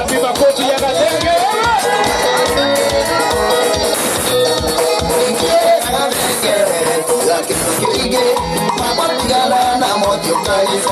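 A lively audience at a live performance cheers and shouts for a performer, loud crowd noise blended with music and scattered voices throughout.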